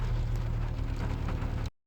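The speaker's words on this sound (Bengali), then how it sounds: "আজকে কিন্তু এই বৃষ্টি মনে হয় না থামবে" Rain falling steadily in Medina, a dense, continuous patter of drops on hard surfaces close by, with no voices, cutting off abruptly at the end.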